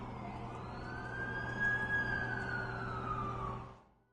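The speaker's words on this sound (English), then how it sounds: "That's the ambulance I called." An ambulance siren from the video game The Amazing Spider-Man 2 wails in a steady rising and falling tone over a low engine rumble, growing louder and then fading out near the end.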